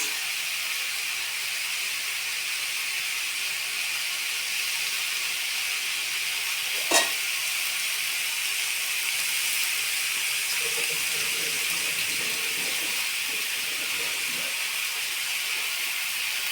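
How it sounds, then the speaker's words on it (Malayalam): Tomatoes cooking gently in a pan for a chutney give a steady soft hiss and sizzle throughout, with one brief sharp clink near the middle and a few faint clatters afterward. "ഇത് തക്കാളി ജസ്റ്റ് ഒന്ന് ചെറിയ രീതിയിലൊന്ന് വേവണം."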